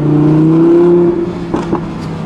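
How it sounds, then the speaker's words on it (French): An Audi R8 V10 engine hums steadily, then drops off with a few quick pops and crackles as the revs fall from about 4000 rpm. "à 4000 tours minute, petite pétarade."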